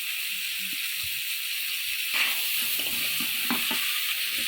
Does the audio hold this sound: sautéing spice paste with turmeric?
yes